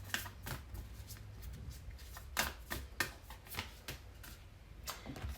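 Oracle cards are shuffled by hand at close range, with a quiet run of soft riffling flicks and taps arriving in uneven bursts.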